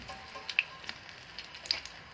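Garlic frying in oil in a pan, a faint, sparse sizzle with scattered small pops and crackles over a quiet background, close by and short.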